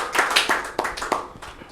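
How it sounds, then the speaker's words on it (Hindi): An audience at a Rajasthan Parishad event claps for guests, loud scattered handclaps close by with uneven rhythm over a short span. "एक बार जोरदार से तालियां हो जाए इनके लिए"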